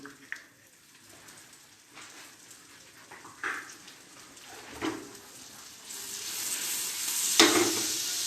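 Garlic and onion frying in a pan, a steady close sizzle with soft stirring scrapes, the hiss swelling louder toward the end.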